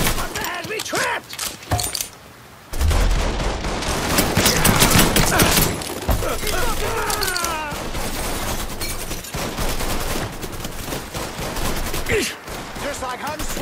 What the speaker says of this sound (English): that was a gun